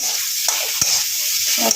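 Steady hiss of fish frying in a pan, with a few soft scraping knocks from stirring.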